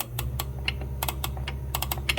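The star-wheel adjuster of a drum brake is turned, producing a series of small, sharp metallic clicks at an uneven rhythm, close up and fairly quiet over a steady low background hum.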